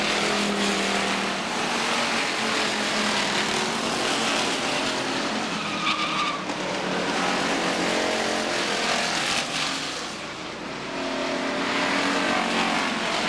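Stock cars on a weekly short-track oval at Beech Ridge Motor Speedway in 1992 race the white flag lap, a loud continuous roar of engines with squealing tires, steady throughout.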